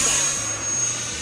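An E-flite F-16 RC electric ducted-fan jet flying overhead, a loud steady high-pitched whine with a low rumbling drone underneath, shifting slightly in pitch as it passes.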